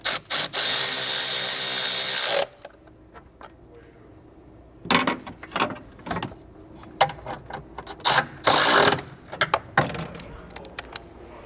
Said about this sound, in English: Now I'm just going to go ahead and snug these down with our electric ratchet.